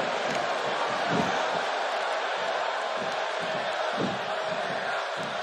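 An arena crowd in the WWE 2K18 wrestling game, in a Brooklyn match between Bayley and TJP, roars and cheers in a loud, steady wash that runs without a break.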